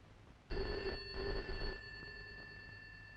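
An old landline telephone bell rings in an indoor film scene, a bright close trill that sounds at moderate volume, pauses, then fades into a quieter tail with no speech.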